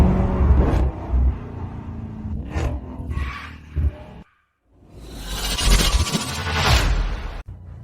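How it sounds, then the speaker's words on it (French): A sports car pulls up with a loud whooshing engine roar that swells after a brief silence and holds strongly to the end. "votre voiture de sport est arrivée."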